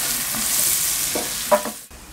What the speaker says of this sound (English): When it's melted and sizzling, in goes the shallot.